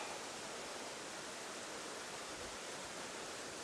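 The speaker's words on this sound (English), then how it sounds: "But for now, let's try and get this waterfall." Waterfall in Dentdale in the Yorkshire Dales, a steady, dense broadband rush of falling water close by, unbroken and even throughout with no voices.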